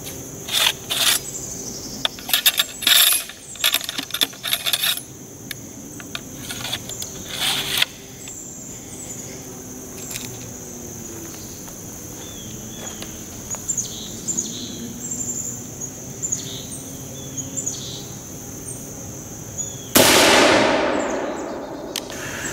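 An East India Company .75 percussion musket fires at stacked plywood sheets: one loud, sharp blast with a decaying tail near the end, after a long stretch of quiet outdoor ambience with scattered clicks and insect chirps.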